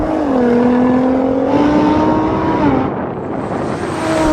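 Drag race launch of a Nissan GT-R, an Audi R8 and a Lamborghini: loud, sustained engine roar that climbs in pitch through gear changes, dips briefly, then surges again, with no talk over it.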